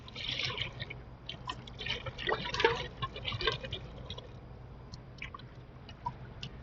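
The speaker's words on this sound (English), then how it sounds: "now it tells us we are allowed to add the rest of our chicken stock" Chicken stock pours into a soup pot of Zuppa Toscana, a soft splashing, gurgling stream for a few seconds that tapers into scattered drips, quiet and close.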